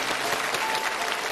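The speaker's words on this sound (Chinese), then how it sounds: "我们也应该再次用掌声祝福他们" A studio audience at a television challenge show breaks into a short, dense burst of clapping, steady and close throughout.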